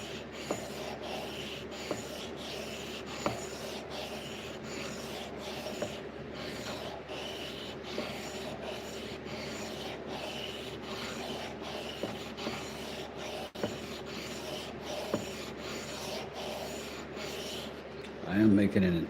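A blade is rubbed flat across a sharpening stone in regular back-and-forth strokes, a soft rasping scrape repeating at a steady rhythm, close and fairly quiet.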